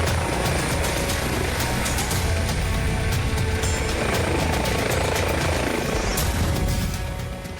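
An air ambulance helicopter flies close overhead with a loud, constant rotor roar and rapid blade thumping that holds steady throughout, easing off only in the final moment.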